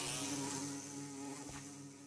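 Close insect buzzing from a bee, a steady droning hum with a faint quieter stretch midway, heard alone.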